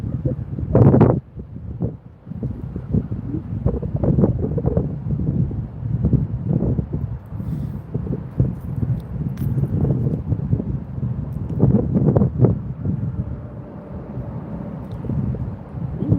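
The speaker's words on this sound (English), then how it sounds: "this wind, man" Wind rushes and buffets the microphone at a train station, a loud, rumbling, gusty roar that rises and falls across the whole stretch, with occasional thumps and no clear talking.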